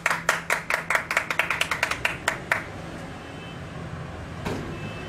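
A few people clap in a quick uneven burst for about two and a half seconds on a Tel Aviv street, then stop, leaving low traffic rumble and one faint later clap.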